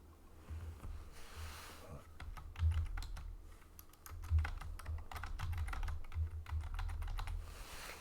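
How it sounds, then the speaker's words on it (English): Rapid clicks and clacks from someone typing on a physical computer keyboard, uneven bursts of keystrokes close to the microphone in a quiet room with a low background hum. "if you heard anything, it would have been my actual physical keyboard"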